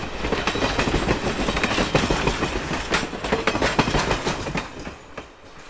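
A nearby train rumbles past with rhythmic wheel clatter on the tracks, loud at first and then fading as it moves away.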